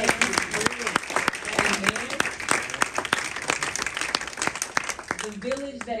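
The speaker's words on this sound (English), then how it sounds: "Let's give my Auntie Weasel's memory a round of applause" Scattered clapping from mourners at a home-going memorial service, sharp individual claps sounding close, while a voice speaks over them throughout.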